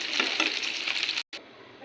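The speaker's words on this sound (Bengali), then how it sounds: "আলুটাও ভেজে নেব।" Potatoes frying in a pan for chicken and vegetable khichuri, a brief, even, hissing sizzle heard close, broken by a short gap near the end.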